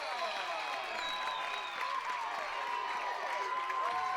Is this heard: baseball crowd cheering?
yes